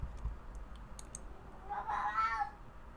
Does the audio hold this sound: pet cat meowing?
yes